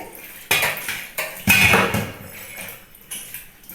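Iron kitchen utensils clatter and clank against each other during washing, with several sharp metallic knocks and scrapes over a few seconds at close range.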